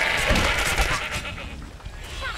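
Sheep bleating in the video game Overlord: Raising Hell, a few short close bleats mixed with busy game sounds across a brief moment.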